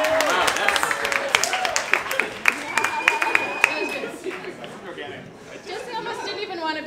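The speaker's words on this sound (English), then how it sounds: "Sure, let's applaud." Audience at a science communication café event clapping at the start, scattered claps fading under lively crowd chatter and voices talking over the room.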